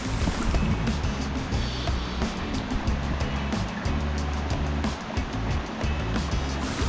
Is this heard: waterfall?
yes